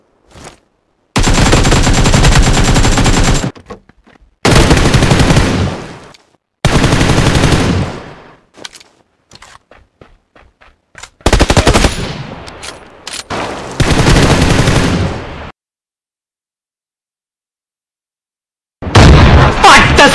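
Loud close bursts of automatic gunfire in the PUBG Lite video game, several long rapid volleys separated by silences and a few scattered single shots, ending in another heavy burst.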